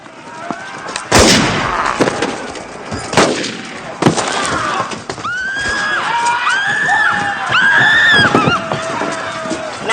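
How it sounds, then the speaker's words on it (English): Several loud, sharp gunshots crack at a man inside a church in a 1994 period drama, spaced a second or two apart, followed by a horse neighing and whinnying several times. "Shoot him, Smithers."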